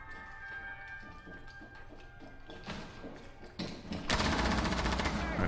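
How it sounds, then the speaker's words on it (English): Bursts of automatic gunfire from a first-person shooter video game crackle and build in intensity, ending in a loud sustained volley, with faint voices and background game noise underneath. "Legion, shoot at the lobby cam."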